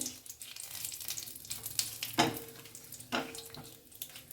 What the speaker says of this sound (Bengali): দিয়ে দিচ্ছি সাদা জিরে, 2খানা তেজপাতা, লবঙ্গ, এলাচ, একটু ভেজে নিচ্ছি হালকা করে।